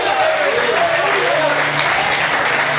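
A church congregation applauds during a Portuguese-language sermon, a loud, dense, steady wash of clapping with music sustaining underneath and voices mixed in.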